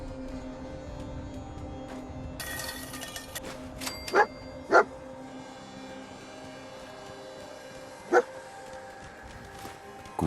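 Dogmeat, the dog companion in Fallout 4, gives three short sharp barks, two close together and one a few seconds later, over a steady ambient game hum.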